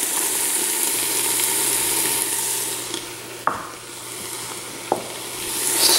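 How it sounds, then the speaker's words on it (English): A spoon stirs a pot of homemade minestrone soup with parsley and nettles, set against a steady loud sizzle and hiss. A low hum runs underneath, and two sharp clinks of utensil on pot stand out. No voices. "Stir it up."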